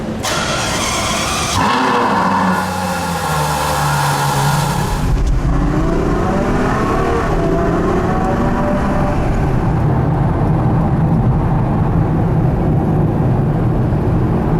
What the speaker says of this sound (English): Cold starts are always loud.